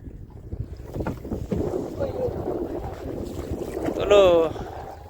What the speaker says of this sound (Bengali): উত্তরে হাওয়া একদম হু হু করে বইছে